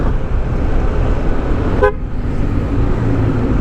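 A car horn gives one short, clear toot from a car driving through Santa Rosa, Balibago, in the Philippines, rising briefly above the steady road and engine noise.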